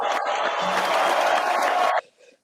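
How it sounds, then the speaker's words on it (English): An audience applauds and cheers for a singer at a Black History Month event in Brampton, a dense steady clapping roar that stops abruptly after two seconds. "Another big round of applause for her."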